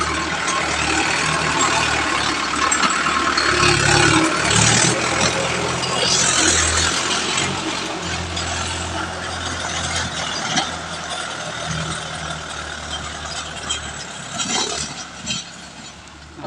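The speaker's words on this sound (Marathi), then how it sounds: "ट्रॅक्टर आलेला आहे मित्रांनो" A tractor engine rumbles steadily on a road beside a rural settlement, a continuous mid-loud drone with some louder swells and a brief bump near the end, no talking over it.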